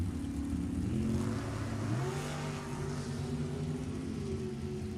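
Drag race cars idling and revving at a strip, including a 2010 Sacramento chassis dragster and a '69 Maverick, a steady loud engine drone with pitch rising and shifting, continuous over several seconds without voices.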